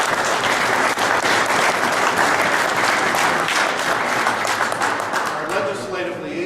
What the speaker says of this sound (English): I'd like a round of applause for Carla in absentia.